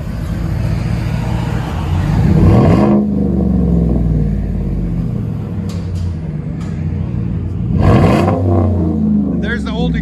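A Chevy Silverado 5.3L V8 revs through its exhaust with a third catalytic converter, rising and falling twice in deep, throaty surges with a steady rumble between; people talk over it.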